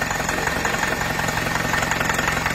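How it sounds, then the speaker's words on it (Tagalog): Kia Rio car engine running with an internal knocking fault, a steady idle with a rapid, regular rhythmic knock and vibration heard close up, loud and continuous, with no voices. "Tumutunog yung loob ng makina. Nagkakaroon ng knocking."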